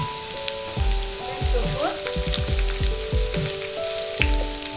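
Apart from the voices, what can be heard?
onions frying in a pan for Mangalore fish curry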